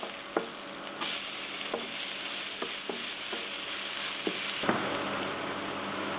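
Onions sautéing in a pan with asafoetida and chillies for South Indian spinach rice, a steady close sizzle with scattered sharp ticks and scrapes of stirring, no talk.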